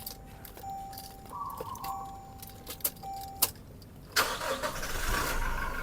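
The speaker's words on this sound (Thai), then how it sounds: "มาเดี๋ยวลองสตาร์ทเครื่องฟังเสียงเครื่องยนต์กันนิดนึงนะครับผม" A Toyota Revo 2021 diesel pickup engine cranks and turns over, then settles into a steady idle rumble, heard close up after some quiet clicks and rattles.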